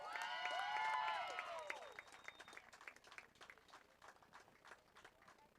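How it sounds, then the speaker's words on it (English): A crowd at a KCU softball game applauds a player being honored, the clapping overlapping a fading musical tone at first, then continuing as scattered claps that taper off. "Please give Alexa a round of applause for her career in the KCU softball program"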